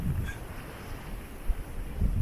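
Sailboat under sail, close-hauled at sea, with a steady roar of wind buffeting the microphone and rushing water along the hull, loud and close with brief gusty bumps.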